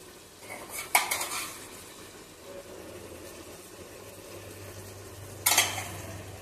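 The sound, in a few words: stirring salt into gongura chicken curry in a pan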